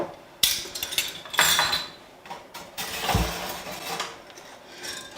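A whisk clinks and scrapes against a bowl while mixing flour with baking powder and salt, in irregular clattering strokes heard close up.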